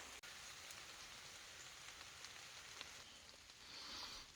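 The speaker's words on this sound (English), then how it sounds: "Here comes the rain." Steady rain falls in a dense, even hiss, a constant patter that swells slightly toward the end.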